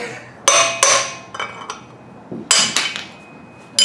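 Sharp metallic strikes ring out in irregular bursts, some in quick doubles, with bright clanging overtones and short ringing decays close by.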